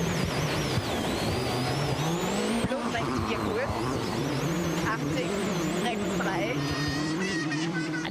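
A WRC rally car driving hard through a demanding stage of the 2006 Cyprus Rally, its engine droning and tires squealing steadily throughout, heard under continuous talk.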